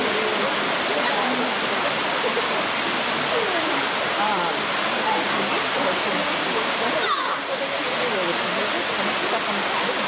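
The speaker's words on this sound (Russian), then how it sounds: "Водопады каскадные." Cascading waterfalls at Rufabgo rush in a steady, dense roar of falling water, close and loud throughout with no break.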